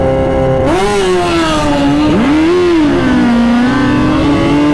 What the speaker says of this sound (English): We're gonna let him take off first, because a loud bike is you can't concentrate.